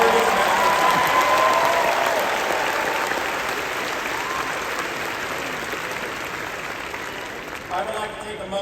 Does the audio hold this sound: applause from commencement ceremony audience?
yes